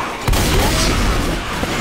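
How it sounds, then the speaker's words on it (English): An explosion in the zombie shooter Left 4 Dead 2 bursts suddenly with a heavy boom, then a loud, dense roar of debris and gunfire that fills the rest of the moment. "That was an explosion."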